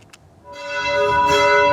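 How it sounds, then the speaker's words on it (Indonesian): Church bells at Jakarta Cathedral ring on a Saturday afternoon during Pope Francis's funeral. A brief hush gives way to a sustained, resonant peal that swells steadily louder, with no talking. "Gereja Katedral Jakarta membunyikan lonceng pada Sabtu sore 26 April bersamaan dengan pemakaman Paus Fransiskus"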